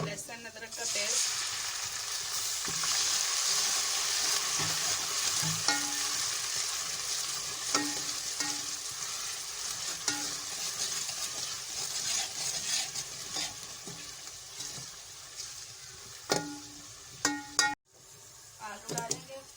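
Steady loud sizzling of ginger-garlic paste frying in a hot pan, with occasional stirring scrapes and clinks throughout.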